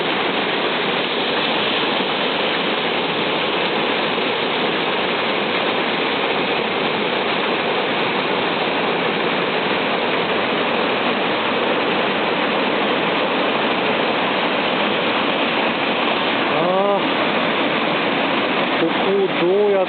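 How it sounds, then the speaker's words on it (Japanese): Kiyotaki falls on the Sarugaishi River roars as a steady, loud, unbroken rush of falling water, with voices briefly heard over it. "再びまた滝に戻ってきました。"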